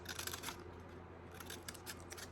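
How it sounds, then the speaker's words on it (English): Scissors snip paper to cut small triangle pieces, a rapid series of close, crisp cutting snips in quick bursts over a soft background. "Snip, snip, snip, snip."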